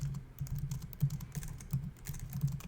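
Typing on a computer keyboard, a steady run of close, soft key clicks with a few louder strokes, heard alone without any voices.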